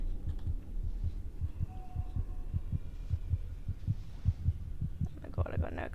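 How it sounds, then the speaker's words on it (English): Rapid, steady heartbeat thumps from the horror game Among The Sleep, a low pulsing rhythm of about two beats per second running throughout under a faint ambient hum. "Why is my heart beating fast?"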